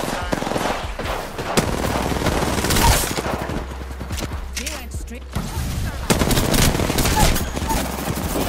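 Rapid automatic gunfire crackles in Apex Legends, with sustained bursts and a brief lull before shooting resumes, loud and close, while a voice talks over parts of it.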